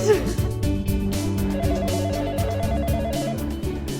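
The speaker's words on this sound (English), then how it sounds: "Oh, my phone rings." A mobile phone rings on a university campus tour, a repeating electronic ringtone melody playing steadily and fairly loud throughout.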